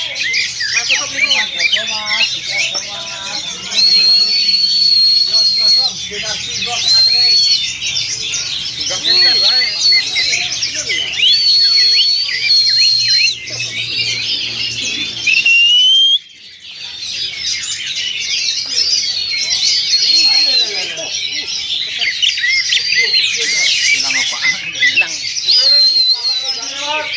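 Kacer magpie-robins at a crowded bird-training stand sing loud, varied, whistling and squawking phrases almost without pause, with several birds overlapping nearby and people talking faintly in the background.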